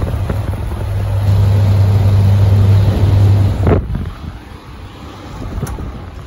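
Vintage clear Welch Air Flight hassock fan with a black top runs loudly close by, a steady rushing drone with a low hum that drops off partway through, then continues more quietly.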